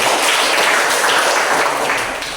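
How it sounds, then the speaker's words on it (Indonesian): Dense, loud applause from an audience for a students' group presentation, a steady wash of many hands clapping close by that fades slightly at the end. "saya memberikan tepuk tangan yang meriah untuk kalian"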